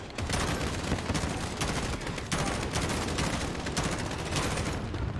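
Gunfire in Call of Duty Modern Warfare 2019, a dense, continuous barrage of rapid shots and bursts, loud and close throughout with no pauses.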